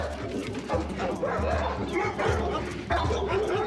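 A pack of dogs at a dog training center barks, yips and whimpers continuously, mixed with people talking over the noise.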